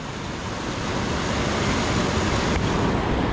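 Continuous loud rushing of rising floodwater coming down from the Sierra Madre mountains, a broad steady roar that swells slightly and never pauses.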